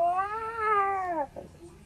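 A cat lets out a single drawn-out, falling meow lasting over a second, heard indoors near a kitchen, followed by a faint trailing sound.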